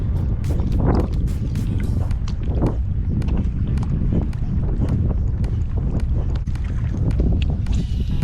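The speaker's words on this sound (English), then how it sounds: "if you can't already tell from the audio, it was windy" Strong coastal wind buffets the microphone in continuous rough gusts and thumps, loud and close, with no voices, during wade fishing.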